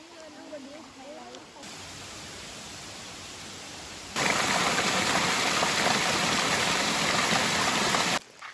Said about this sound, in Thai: แล้วน้ำตกบางขวาง